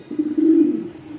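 A racing pigeon coos up close, one sustained low throaty rumble that swells and then tapers off, with nothing else heard.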